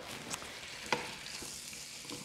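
Asparagus tossed with balsamic vinegar and herbs sautés in a pan with a soft, steady sizzle and a few light stirring clicks, fairly quiet throughout.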